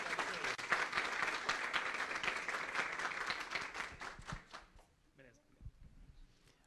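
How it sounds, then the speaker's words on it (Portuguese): Audience at a talk applauds to welcome a speaker, dense clapping that holds steady for about four seconds, then fades into a few scattered claps and room noise. "vamos receber com uma salva de palmas Diogo Marra"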